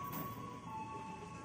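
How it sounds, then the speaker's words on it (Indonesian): Commuter train at Manggarai station, with a steady low rumble and a sustained tonal hum running throughout, fairly quiet and continuous with no voices. "Ini mah pasti kereta dari arah Tanah Abang atau Angke yang masuknya ke jalur bawah stasiun Manggarai."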